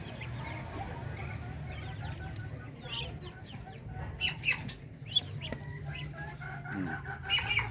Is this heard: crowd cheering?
no